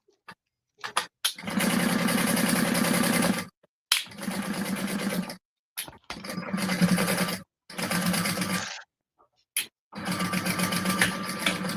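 Sewing machine with a servo motor running at a moderate speed while tacking down piping on a handmade bag, in several loud, steady whirring bursts separated by short silences.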